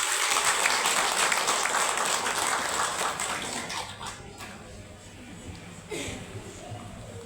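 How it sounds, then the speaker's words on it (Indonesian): Audience applause at an event welcoming a speaker from Iris Ramira Travel, loud dense clapping at first that thins and fades toward the end, with faint background murmur. "Tepuk tangan yang meriah."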